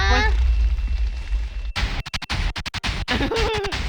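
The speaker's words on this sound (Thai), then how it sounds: "เฮ้ยทำไมมันระเบิดอย่างนั้นอ่ะ" An explosion in the Minecraft video game, heard as a sudden broadband blast with a deep rumble that cuts off the preceding noise, followed by a string of short crackling bursts and sputters, loud and close.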